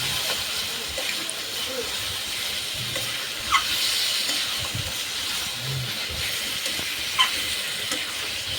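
Spiced chicken curry masala fries in oil with garam masala added, giving a steady close hiss with a couple of sharp spoon scrapes as it is stirred.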